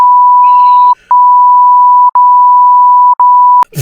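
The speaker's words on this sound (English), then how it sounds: "I was gonna have to beep a lot of that out" A loud, steady censor bleep tone runs almost continuously, broken by three brief gaps, as a pure high beep covers swearing in conversation.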